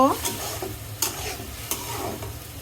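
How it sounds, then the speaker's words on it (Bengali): Prawns sizzle in a hot pan with ash gourd and chili powder while a spatula stirs them. Soft frying crackle runs underneath a few sharp metal scrapes against the pan. "এখন চিংড়ি মাছ দিয়ে দিব। এখন একটু কষিয়ে নিব।"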